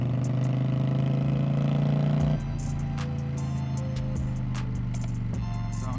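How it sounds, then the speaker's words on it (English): Motorcycle engine blipped during a rev match downshift, a steady close engine drone that drops abruptly in pitch and level partway through, then settles into a lower, rougher running tone. "Now I'm doing the rev match downshift"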